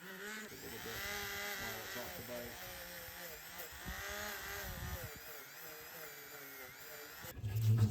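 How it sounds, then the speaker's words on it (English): A motor-driven brass wire brush wheel whines steadily as it scrubs a Schwinn modern hybrid bicycle wheel, its pitch wavering under load before a louder clatter at the end. "let's give this brass brush a try"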